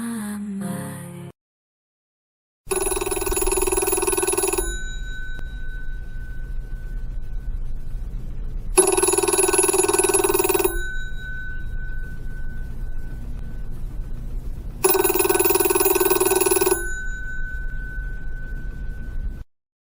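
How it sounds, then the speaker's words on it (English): A telephone rings in three long, loud electronic tones spaced a few seconds apart, with a steady low hum underneath and a short sound before the first ring. "When the phone rang,"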